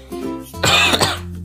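A single person coughs a few times in quick succession, a short harsh close burst that briefly interrupts a steady low hum from a Minecraft game session, then fades back to the quiet background.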